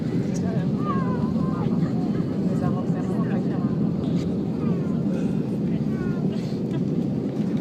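A passenger airliner rolls along the runway just after touchdown at Barcelona airport, a steady loud cabin roar of engines and wind filling the whole stretch with no let-up.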